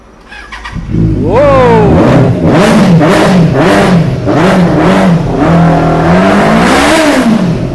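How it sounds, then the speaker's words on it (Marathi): A second-hand superbike engine fires up and revs repeatedly, loud and close, with rising and falling pitch sweeps across several throttle blips over a steady idle. "गाडीचं फायरिंग ऐकायचं या तुम्हाला दाखवून देतो."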